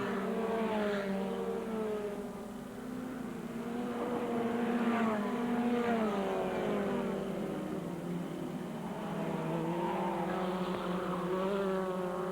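A Formula Ford 2000 race car on the last lap at Ingliston circuit, a distant engine note rising and falling in pitch as it passes and laps on, heard faintly and continuously without any talking.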